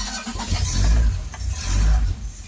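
A Ford Cortina Mk3 Estate engine on a TeeCee carburetor catches and runs: low, uneven engine rumble swelling twice in surges, close by, with no talking.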